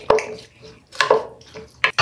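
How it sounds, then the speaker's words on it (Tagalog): Garlic pepper beef being mixed in a bowl, with a few close, sharp clinks and scrapes of a utensil against the bowl spaced irregularly over a quiet background. "I-mix lang natin ng maigi para syempre manuot yung kanyang lasa"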